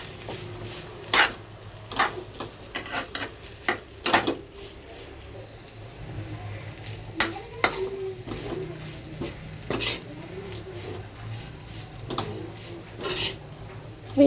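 Brinjal with dried prawns and turmeric being stirred in a pan, with intermittent spoon scrapes and clinks against the metal over a faint, steady sizzle.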